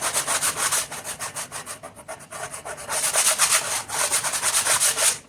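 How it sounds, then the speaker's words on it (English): Steady rough scraping and rubbing as the top of a pottery wheel is scraped clean, close by, with rhythmic strokes that intensify in the second half; no voices. "Scraping sound you're hearing is me cleaning off the top of the wheel."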